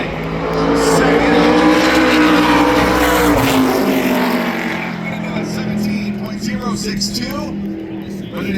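An ARCA Menards Series race car roars loudly through a qualifying lap at Berlin Raceway, its engine note rising and then dropping as it passes, while a commentator talks over it.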